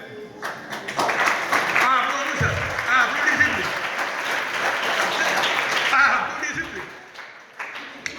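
Audience applause at a Jain community gathering, a sustained burst of clapping that swells, holds for several seconds and then fades, with voices talking over it.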